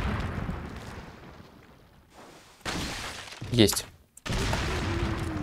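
A blast in the video game Resident Evil 4 as a corpse is blown apart, a sharp crackling burst near the middle followed by a brief silence and a rumbling aftermath, with a voice talking over the quieter lead-in.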